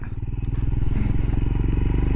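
Royal Enfield Himalayan motorcycle engine held at low revs, a steady close thumping throb that carries loud and even from start to finish.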